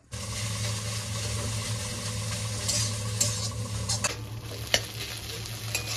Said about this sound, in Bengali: আর আমি এখানে মাছের তেল ভাজছি পেঁয়াজ আর কাঁচা লঙ্কা দিয়ে।